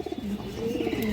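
A red Chila female pigeon and others give a short burst of close, low rolling coos, a warbling murmur with no voices present.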